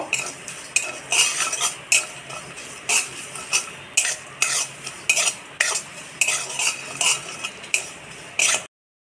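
Cashews and poppy seeds scraped and stirred in a wok, a steady run of loud metallic scrapes and clinks repeating about every half second over a faint frying hiss, with no voices.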